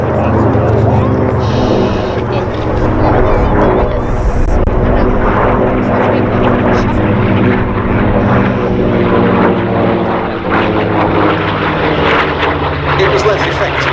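Piston-engined P-51 Mustang with a Merlin engine at an air show, a steady loud propeller drone filling the whole stretch with a faint higher whine, and voices talking throughout.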